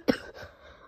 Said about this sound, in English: Oh, that was a good cough.